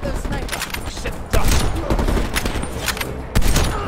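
Gunfire in the Call of Duty Cold War campaign, a dense fusillade of rapid rifle shots with two heavier bursts, loud and continuous under faint in-game voices.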